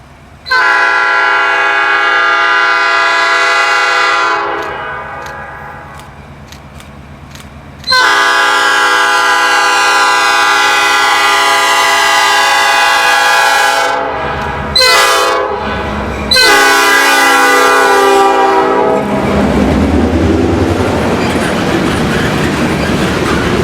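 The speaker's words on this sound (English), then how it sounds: "We catch back up with the train at Greenlee Street," A Michigan Shore Railroad freight train rolls past, its loud horn blaring in several long blasts over the rumble and clickety-clack of wheels on rail, heard from trackside near a road crossing, with no voices.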